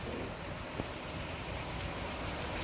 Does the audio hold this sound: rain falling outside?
yes